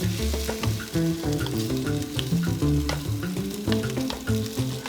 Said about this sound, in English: To make sure that the ground pork doesn't clump together, I quickly separate them while frying